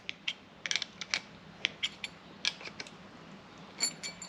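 A brake line double-flaring tool being screwed down tight against its face, a series of small sharp metallic clicks and ratcheting creaks, close and fairly quiet, irregularly spaced.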